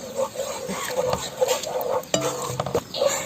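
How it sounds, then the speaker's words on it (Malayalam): Homemade pizza sauce is stirred in a pan, with short uneven spoon scrapes and light metallic clinks over a soft simmering sizzle. "നന്നായിട്ടൊന്ന് ഇളക്കി കൊടുക്കാം."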